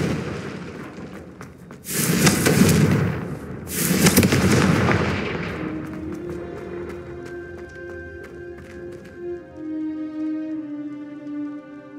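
A Confringo fire spell blasts in Hogwarts Legacy, two loud bursting whooshes in quick succession, followed by ringing, shimmering tones and lingering crackle as the effect fades.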